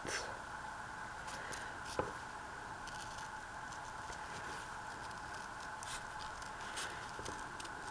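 Scissors snipping through book-page paper while fussy-cutting a butterfly embellishment, soft close crisp cuts with one sharper snip, quiet and alone over faint room noise.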